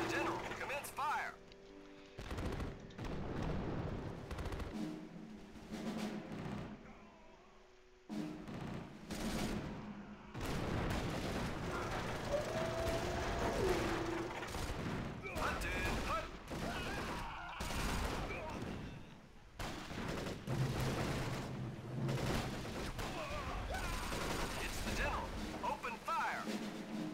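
A World War II D-Day battle in the 2004 strategy game Axis & Allies, where artillery and tank regiments fire in dense, overlapping volleys of gunshots and booms that rattle on nearly without pause for the whole stretch.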